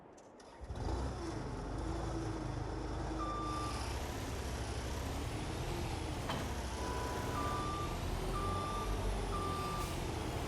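A skid steer in the Farming Simulator 22 video game backs up with a steady train of reversing beeps over its loud droning engine, close and continuous with no talking.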